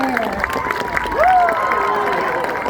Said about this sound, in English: make sure you put your hands together, make it nice and loud for Harper